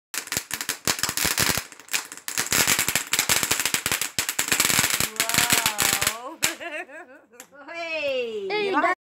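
Fireworks going off outside, a dense, loud barrage of sharp crackling pops for several seconds; afterward voices talk and shout over fainter scattered bangs.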